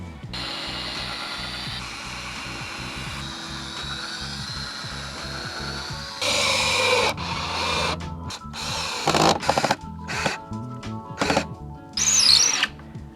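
A power drill drives screws into wooden boards for a DIY raised garden bed, whirring in several short bursts of rising pitch, separated by quieter handling clatter and the clicks of boards being positioned, all close and loud with no talking.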